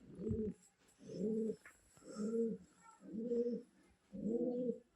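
Caged pigeons coo in five slow, evenly spaced phrases, each a soft, low, rounded call, close and alone with no talk over them.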